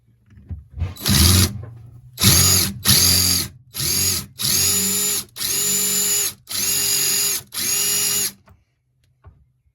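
Power tool working a stuck bolt out of a Honda ST50 engine, with seven or eight loud, evenly spaced whirring bursts separated by short pauses, close up and with no talk.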